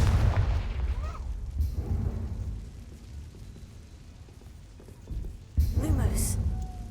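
Hogwarts Legacy's Confringo blast spell detonates with deep, booming explosions, one heavy blast at the start and another sharp burst near the end, with a quieter rumbling stretch between and a player's voice at times.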